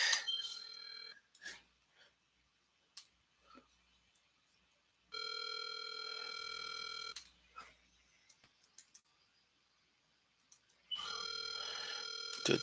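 A telephone rings out on a call, two long bursts of the ringback tone separated by quiet gaps with faint clicks and line noise, heard clearly with no talking.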